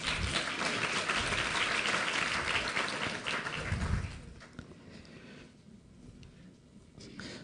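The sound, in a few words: audience applause for volunteers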